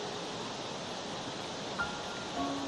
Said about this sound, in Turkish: Bakacak şelalesinin ilk başladığı nokta burası.